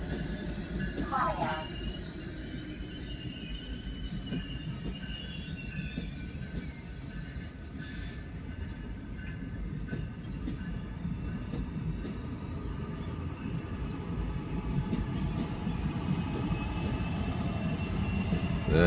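Amtrak train 350 pulling out of Battle Creek station in Michigan, a steady rumble of engine and rolling cars with faint wheel squeal that slowly builds in loudness, with no horn.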